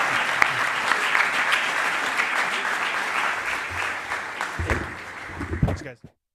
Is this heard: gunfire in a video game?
no